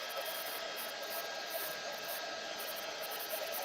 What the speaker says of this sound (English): The first layer takes the longest because the heat tool needs to heat up.